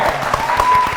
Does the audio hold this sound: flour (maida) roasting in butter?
no